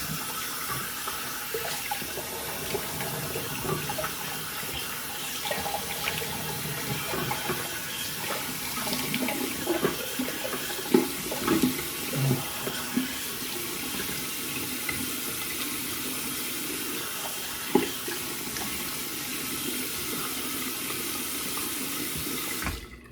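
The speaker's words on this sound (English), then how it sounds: "let's rinse off here" Tap water running steadily into a sink to rinse off after a shave, a continuous close rushing stream for over twenty seconds with faint splashes and no talk.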